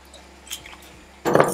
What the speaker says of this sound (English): I'm going to add in a splash of spiced rum.